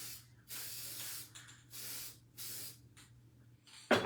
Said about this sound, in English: We're going to take Mod Podge Sealer.